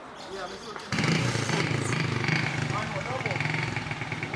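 A motorcycle engine starts up and runs steadily close by at a loud, rumbling idle on a film set, with people talking over it.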